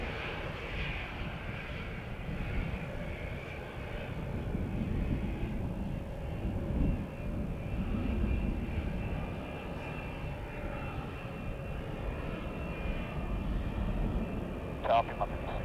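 A fixed-wing airliner at Cleveland Hopkins International Airport rumbles steadily as it takes off, a sustained low roar heard from a distance under intermittent talk.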